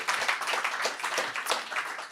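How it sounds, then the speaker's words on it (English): A concert crowd claps for performers in a continuous, full round of applause from many hands, sustained and fairly loud throughout. "Come on, yeah, give them a clap"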